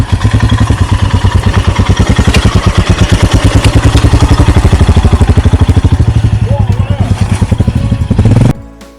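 A motorcycle stuck in deep mud on a muddy dirt track in Türkiye, its engine loud and close with a rapid steady chugging pulse and rising revs, then cutting off abruptly near the end.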